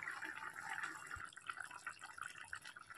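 Potato-and-pointed-gourd curry (potol jhol) boiling hard in an uncovered pot over a high gas flame, giving a steady close bubbling and liquid burble with no talk.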